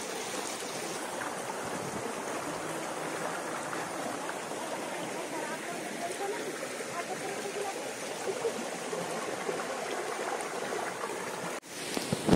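Rajagiri waterfall stream near Sendhamara in Nayagarh, Odisha, rushes continuously, a close and steady broad roar of flowing water, with a brief rustle near the end.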